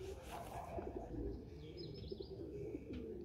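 A pigeon coos softly at close range, a few low rolling coos with faint chirps in the background, no talking.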